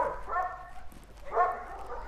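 Two dogs, one named Zeytin, meet and give soft whining, whimpering vocalizations in two short bursts, fairly close and moderately quiet.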